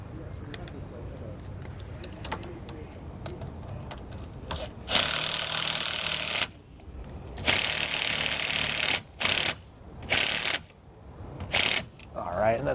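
Bolts are tightened on a Blue Ox KarGard protective shield mount for a towed vehicle, with bursts of a ratcheting power tool alternating with brief pauses, close and loud, after someone talks at the start.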